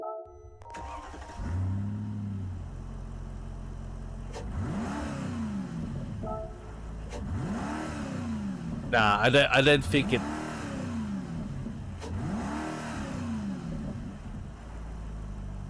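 Stock car engine in Gran Turismo 7 starting and revving in repeated rising and falling sweeps, moderately loud, with someone talking briefly over it.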